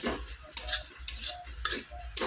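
Ground spice masala frying in a pan, a continuous sizzle broken by regular stirring scrapes about every half second, close and without talk.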